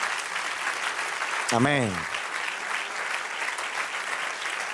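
Steady, full applause from a church congregation throughout, with a voice briefly calling out over the clapping partway through.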